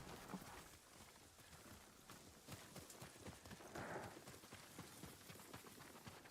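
Horse hooves clip-clopping in Ghost of Tsushima, a quick, steady run of faint hoofbeats over a soft rain-like hiss, with no talk.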